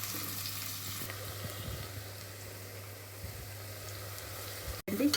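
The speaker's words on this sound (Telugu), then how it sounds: "వేడయ్యాక మనం తరిగి పెట్టుకున్న ఉల్లిపాయలు వేసి బాగా బ్రౌన్ కలర్ వచ్చే వరకు వేయించాలండి" Chopped onions fry in hot oil with a steady, close sizzle and crackle and a low hum underneath, with no talk.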